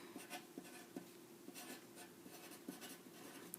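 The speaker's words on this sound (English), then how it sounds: "let's start by writing our names on our paper." Pencil writing names on a sheet of paper, close and quiet, with short scratchy strokes in irregular bursts and small taps between them, and no one talking.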